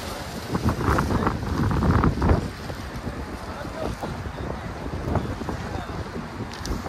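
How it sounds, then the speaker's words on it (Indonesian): Strong wind buffets the microphone in continuous rumbling gusts outdoors, swelling louder early on before settling into a steady roar. "ini sampai ditumpang pakai kardus karena anginnya sangat kencang sekali tuh"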